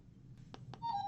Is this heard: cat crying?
no